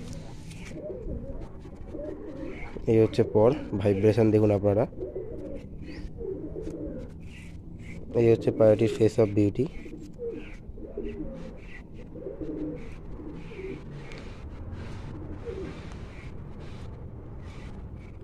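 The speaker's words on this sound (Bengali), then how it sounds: "এটা মেল পায়রা, এটা ফিমেল পায়রা।" A breeder pair of pigeons, male and female, coo in a loft, with two distinct throaty bursts a few seconds apart heard close by while someone talks throughout.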